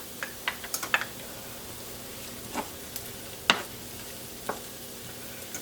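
Minced garlic hits onions already frying in a pan, giving a steady low sizzle with scattered light clicks and taps of a utensil stirring, no voices.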